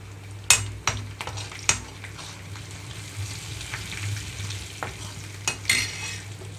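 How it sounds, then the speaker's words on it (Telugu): Garlic cloves, dried red chillies, mustard seeds and cumin crackle in hot oil for a Telugu tender tamarind leaf chutney tempering, a steady near sizzle broken by several sharp clicks of a spoon against the pan. "ఇక్కడ ఆయిల్ అంతా హీట్ అయిన తర్వాత వెల్లుల్లి రెమ్మలు, ఎండుమిరపకాయలు, ఆవాలు, జీలకర్ర వేసేసుకుంటున్నాను."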